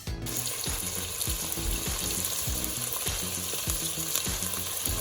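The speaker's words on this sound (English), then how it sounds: "Salmon's been seared, 3 minutes, skin down." A big piece of salmon sears skin down in a hot pan, a loud, even sizzle with a rapid train of small crackles and pops running steadily close by.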